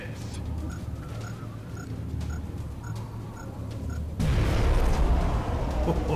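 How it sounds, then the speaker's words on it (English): Car explosion in XCOM: Enemy Within, a sudden loud, broad rumbling blast that cuts in after several seconds of ticking, clicking game ambience and then roars on steadily to the end. "Car explosion never hurts to get rid of mutons."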